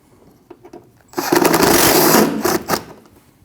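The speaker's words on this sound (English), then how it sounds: "Now you can reinstall your 7mm bolt underneath your fender flare and tighten it." A 7mm bolt is driven in under the rear fender flare of a 2013-2019 Ford Escape, a brief buzzing whir of a power driver lasting about a second and a half, with light clicks before and after.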